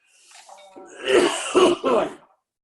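A few harsh coughs from a man in quick succession, close and fairly loud, preceded by a short throat-clearing rasp.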